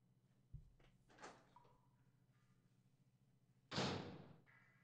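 A door in the video game Resident Evil Director's Cut opens with a soft knock, a scraping slide, then a loud sharp burst of movement near the end, all quiet and alone.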